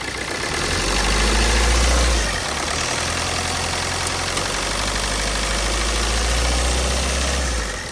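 A 2008 Maruti Suzuki Swift LDi diesel with the AC running is revved lightly twice. Each time the steady, close engine drone rises into a deeper, louder swell before falling back to idle.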